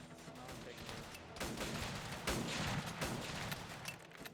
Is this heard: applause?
no